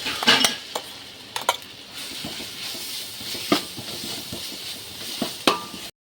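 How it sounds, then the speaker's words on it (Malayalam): Sliced green chilies and ginger-garlic paste sauté with coconut in a pan for a Christmas chicken biryani, a soft steady sizzle broken by a few scraping spoon strokes and light clinks against the pan, close and unaccompanied by speech. "ഇനി പച്ചമുളക് ഇനി വട്ടത്തി അരിഞ്ഞതും കൂടെ ചേർത്ത് കൊടുക്കാം ചെറുതായിട്ട് ഇഞ്ചി വെളുത്തുള്ളി അരച്ചതച്ച് വെച്ചേക്കുന്ന ഇട്ട് കൊടുക്കാം"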